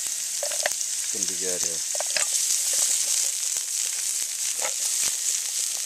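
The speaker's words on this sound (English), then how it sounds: "Put a little bit of oil in there. I'm going to put some onions in." Onions hit hot oil in a pan for a vegan Asian stir-fry and sizzle loudly and steadily with crackling pops, while someone speaks briefly over the frying.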